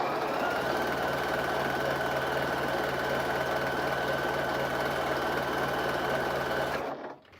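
A sewing machine runs nearby at a fast steady pace, a loud continuous mechanical whirring and rapid clatter for about seven seconds before stopping abruptly, with no talking over it.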